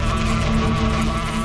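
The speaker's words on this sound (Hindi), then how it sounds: "मधुमक्खी के छत्ते को छेड़ना" Bees swarming around a hive give a steady, dense buzzing drone that runs unbroken and fairly loud throughout, with no voices over it.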